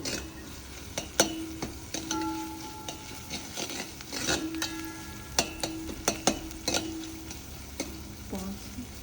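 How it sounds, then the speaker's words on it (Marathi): A spice masala with fresh coriander is sautéed in a pan for a Maharashtrian masoor dal tadka: a soft, steady sizzle broken by sharp spatula clicks and scrapes against the pan. "कोथिंबीर घालणार आहोत आपण मसाल्यामध्ये आणि परतून घेणार आहोत"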